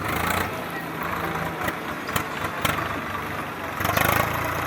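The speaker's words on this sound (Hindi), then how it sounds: "ट्रैक्टर से हल की जुताई होती है, खेतों की जुताई होती है" Tractor engine idling and running steadily in a farm field during ploughing, a continuous low rumble with a few brief knocks and a louder surge near the end, with people talking over it.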